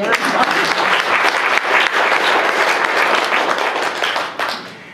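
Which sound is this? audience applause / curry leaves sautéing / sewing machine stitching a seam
audience applause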